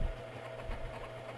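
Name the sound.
old Kenmore 500-watt stand mixer mixing pretzel dough on low speed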